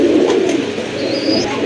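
Fancy pigeons in a loft, with red Gorra and Rajgolla breeds among them, cooing steadily and close by as a continuous low throaty murmur with no one speaking.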